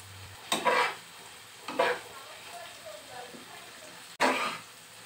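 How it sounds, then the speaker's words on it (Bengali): Chopped potatoes being stirred and fried in a pan, with a few scraping stir strokes over a low, steady sizzle; a voice speaks faintly in the background. "সব কিছু নেড়েচেড়ে আরেকবার মিশিয়ে নিচ্ছি আর এরপর 2-3 মিনিট আলুটা মজে আসা পর্যন্ত এগুলো একটু ভেজে নিব।"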